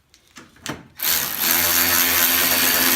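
A Milwaukee M12 cordless ratchet starts after a few light knocks and then whirs loudly and steadily up close, with a constant mechanical buzz that holds to the end.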